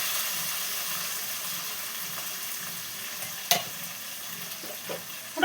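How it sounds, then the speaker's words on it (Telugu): Turmeric going into a sizzling Telugu tempering of curry leaves and salt in hot oil, a steady close crackle and hiss with a few sharp clinks of a spoon near the end. "ఇప్పుడు పసుపు వేసుకుందాం."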